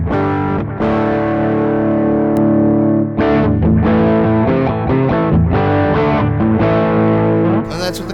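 Distorted electric guitar played through a Sonicake Twiggy Blues multi-effects unit with cabinet simulation switched on, sustained chords ringing loud and continuous with a brief gap near the start and another around three seconds.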